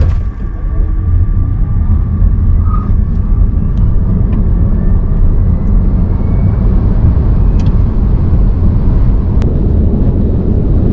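A Renault Megane E-Tech electric car accelerates flat out in Sport mode. Heavy road and tire rumble fills the cabin with a faint rising motor whine above it, loud and continuous with no talking.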